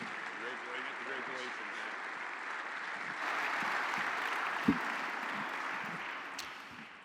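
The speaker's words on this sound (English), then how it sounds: "Round of applause for Dynamic Catholic and Matthew Kelly." A crowd applauds Dynamic Catholic and Matthew Kelly at a Cincinnati award event, with steady clapping that swells in the second half, a few voices and cheers mixed in.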